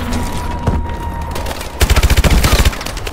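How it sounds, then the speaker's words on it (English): Missile strike explosions in the video game Call of Duty: Advanced Warfare, a loud booming blast followed by a rapid burst of sharp detonations and gunfire-like cracks. "Missile strike."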